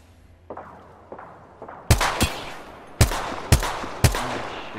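Apex Legends gunfire: faint shots at first, then a run of loud, sharp single reports in uneven bursts, each one ringing out briefly before the next.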